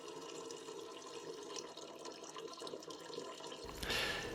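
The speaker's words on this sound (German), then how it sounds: "Damit ich das Wasser leichter einfüllen kann, schütte ich es zuerst in einen Messbecher und von dort aus in den Tank des Cavallo." Water trickles quietly from a measuring cup into the tank of a Pulmovolta Cavallo 1000 hydrogen inhaler, then swells into a louder, brighter splash near the end.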